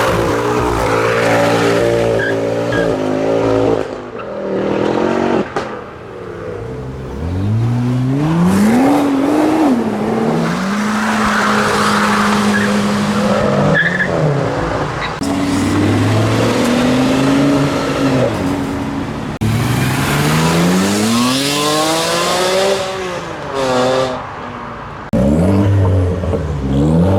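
Several cars rev and accelerate one after another as they pull away from a car show, rising engine tones sweeping up through the gears, loud and close with brief gaps between passes.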